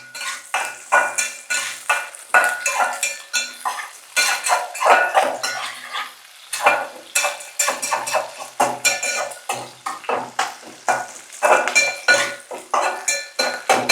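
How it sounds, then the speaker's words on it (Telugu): Dried red chilies are stirred and fried in a metal pan, the spoon scraping and clinking against the pan in repeated bursts over a soft sizzle, close by and with no talking. "ఇదిగోండి, మిరపకాయలు చక్కగా వేగిపోయాయి"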